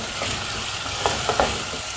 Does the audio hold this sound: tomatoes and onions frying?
yes